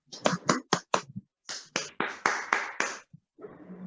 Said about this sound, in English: everyone, please unmute yourself and join me in applauding